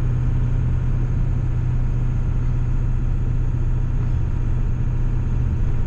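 A 7.3 Powerstroke diesel truck, puffing smoke, cruises at about 40 mph while still in third gear, giving a steady, loud, continuous low engine rumble throughout with no voices.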